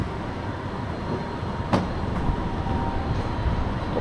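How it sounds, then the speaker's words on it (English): A tram passes on a Sydney street with a steady, moderately loud rumble and one sharp click partway through. There is no talking. "Got the tram here."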